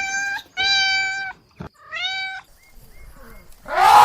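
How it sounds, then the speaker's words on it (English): A cat meows loudly and clearly several times in close succession, a few drawn-out calls with short pauses, then a burst of noise at the end. "Cats have long been loved as pets."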